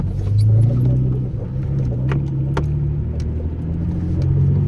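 Steady car engine and road rumble from inside a moving car fitted with 8-inch LED spotlights, continuous and fairly loud with a few faint clicks and rattles, no talk.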